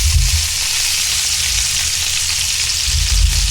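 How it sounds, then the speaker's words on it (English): Carnitas pork frying in bacon grease in a hot pan gives a steady, loud, close sizzle with a dense hiss throughout, plus low thumps from stirring near the start and end. "You can hear that sizzling"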